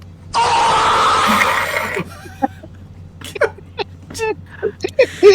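A screaming sound effect plays over a voice call, a long, loud, harsh cry lasting over a second, followed by scattered bursts of chatter and laughter from the participants.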